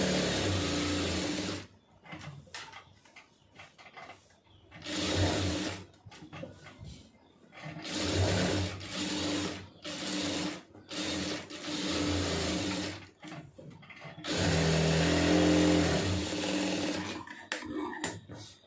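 A sewing machine stitches fabric in long steady bursts of rapid mechanical whirring, separated by short pauses as the cloth is turned, loud and close with no voices.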